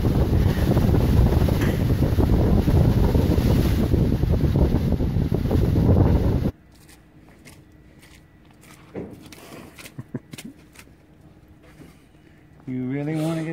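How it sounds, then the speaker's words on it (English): Strong wind blowing outdoors across a flapping tarp, a loud, dense roar pummeling the microphone for several seconds before it cuts to quieter ambience with scattered knocks and brief voices. "It's too windy!"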